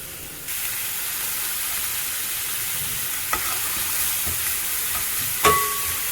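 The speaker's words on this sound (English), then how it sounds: "Saute it and add the crushed ginger and garlic." Onions, green chillies, ginger and garlic sauté in a pan with a steady, close sizzle and hiss. A few soft scrapes of stirring come through, and no one speaks.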